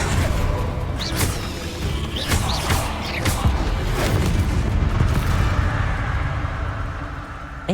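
Repeated booming blasts from Bombarda and Confringo spells in Hogwarts Legacy, loud crashing explosions arriving several times in quick succession over a steady rumbling background.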